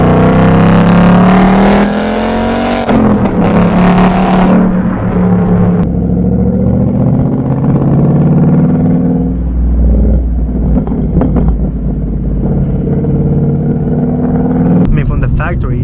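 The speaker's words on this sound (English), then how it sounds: "And this motor just loves to revs. Just a little bit of a throttle" A loud 2023 Ford Mustang Mach 1 engine revs and rumbles close by, pitch climbing and falling with throttle blips, exhaust burbling underneath, with a voice speaking over it.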